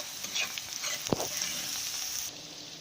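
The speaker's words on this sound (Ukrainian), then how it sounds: "І робимо зажарочку. Цибулька, морквочка." Chopped onion and carrot fry in a pan, a steady close sizzle with a brief scrape of stirring partway through, and no one speaking.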